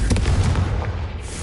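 A Confringo fire spell blast in the Hogwarts Legacy video game, a loud booming burst with a quick double hit at the start that rumbles and fades within about a second.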